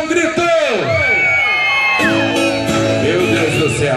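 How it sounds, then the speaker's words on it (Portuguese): A crowd at a party venue with bleachers bursts into loud whoops, yells and cheering, voices overlapping in rising and falling shouts that stay strong throughout. "Quem está feliz aqui, dá um grito."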